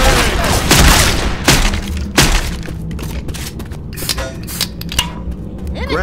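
Grenade blasts in the zombie shooter Left 4 Dead 2 come as loud booming thuds and crackling bursts amid dense gunfire and game chaos, the heaviest hits early on.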